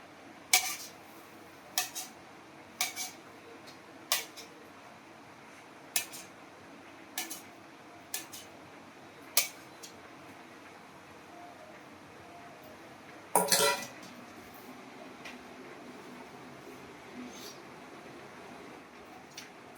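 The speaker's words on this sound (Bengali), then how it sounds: "এই পনিরটা ছোট ছোট করে কেটে নিচ্ছি।" Knife cutting paneer into small pieces in a home kitchen, a series of sharp, separate knocks of the blade on a board at irregular intervals, with one louder clattering burst near the end and quiet room hum between.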